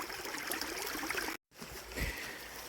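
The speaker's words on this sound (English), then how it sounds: "and you can see all the water leaching out" Water trickling and seeping out of a shale rock face outdoors, a steady, faint, hissing wash with a soft gurgle, broken by one brief gap.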